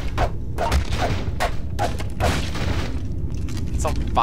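Several loud, booming shotgun blasts from the horror shooter Nightmare House 2 fire in quick succession, close and punchy, with a voice talking over the shots.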